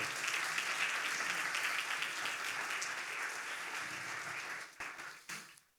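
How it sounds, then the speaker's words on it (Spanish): A church congregation applauding, a broad, sustained round of clapping that holds steady and then tapers off into a few scattered claps at the end. "Si usted me entendió, denle un aplauso al Señor."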